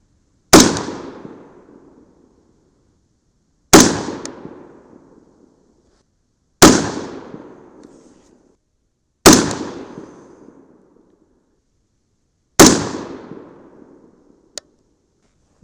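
Five rifle gunshots fired from a shooting bench sound at steady intervals of about three seconds, each a loud sharp crack with a quickly decaying echo, and a faint click follows the last shot.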